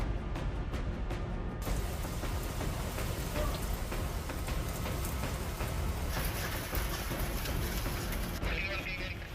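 Heavy rain pours down in a city during a stormy weather spell, a dense, steady roar of drops hitting surfaces that fills the whole stretch without letting up.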